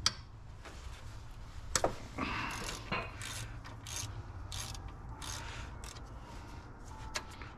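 A ratchet wrench works a 14 mm bolt on a Nissan 3.3L engine belt tensioner, giving short bursts of close, sharp clicking between quieter pauses.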